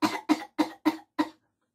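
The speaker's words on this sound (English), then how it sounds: "particularly if you have a cough that's not productive" A person gives five dry, unproductive coughs in quick, evenly spaced succession, close to the microphone and with nothing else audible, then falls silent.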